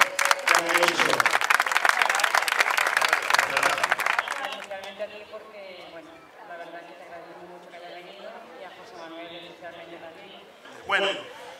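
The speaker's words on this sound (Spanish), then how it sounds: "yo creo que se merecen un aplauso a ellos, ¿no?" A seated audience at a televised evening event in Tangier breaks into loud applause, sustained clapping that fades after a few seconds as a voice takes over, with a brief burst of crowd noise near the end.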